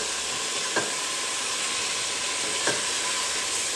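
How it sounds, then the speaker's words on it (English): Ground meat sizzles steadily while browning in a pan, with two soft scrapes of a wooden spoon stirring it against the constant frying hiss. "pretty much what we're doing is just browning the meat"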